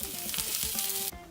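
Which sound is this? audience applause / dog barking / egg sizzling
egg sizzling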